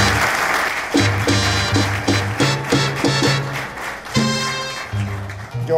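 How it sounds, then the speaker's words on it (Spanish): Loud audience applause at a tribute ceremony honoring a salsa bandleader, steady clapping running throughout with music-like tonal bursts and a rhythmic pulse layered over it. "Un aplauso sonoro."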